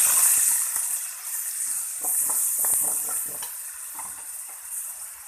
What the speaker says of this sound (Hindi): इसे लहसुन से बघार लगाते हैं। ये मैंने लहसुन इसमें डाल दिया है।